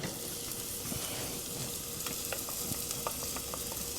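Onion frying in bacon grease in a pan gives a steady, soft sizzle with a few light ticks and scrapes from stirring, fairly quiet and without speech.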